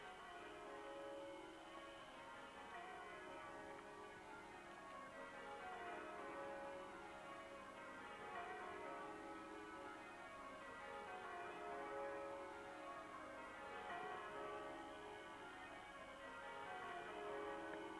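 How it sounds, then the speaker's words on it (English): Church bells ring a full peal in changing sequences, a steady cascade of overlapping tolls heard from a distance in Sydney, soft and even throughout. "they're actually ringing out a full peal of bells"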